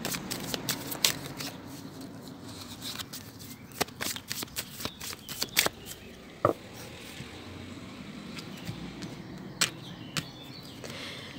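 Tarot cards shuffled and cut by hand at a reading table, a steady papery riffle broken by sharp slaps and snaps of the deck, close and fairly quiet with no voices.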